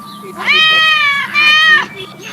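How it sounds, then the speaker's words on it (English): A cat held in an elderly woman's arms gives two loud, close, drawn-out meows in quick succession over a quiet background. "I think this kitty she's clutching wants to escape too."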